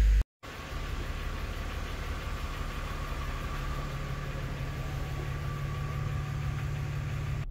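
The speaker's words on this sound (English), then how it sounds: "it fired right up and it seems to be idling okay" A BMW E53 X5 with the M54 engine idles steadily up close after a brief cut near the start, a smooth, even hum that stays at one level with no speech.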